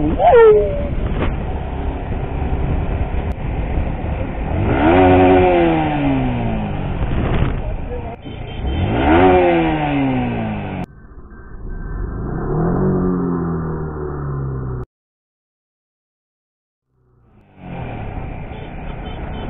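A Yamaha R15 V4 sport motorcycle engine revs repeatedly, rising and falling in pitch up close, with a brief silent gap before it resumes.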